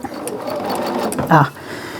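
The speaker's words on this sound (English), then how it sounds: "So I'm going to go back a little bit and just sew over it." A Bernina sewing machine runs back over a quilt block seam with a brief, close motor hum, while a person talks over it.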